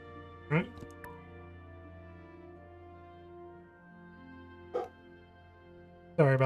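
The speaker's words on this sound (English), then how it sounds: "Sorry about the barking" Pet dogs barking indoors at something outside, three short barks spaced across the stretch, the last a quick double burst, over a steady low hum of game background music.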